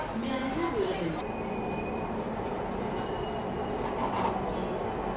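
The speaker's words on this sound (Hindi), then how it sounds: "प्लेटफॉर्म नंबर 1 से निकल रही है।" The Mahabodhi Express passenger train rumbles steadily as it pulls out of platform 1 at Gaya railway station, with faint wheel squeals and a voice speaking over the constant noise.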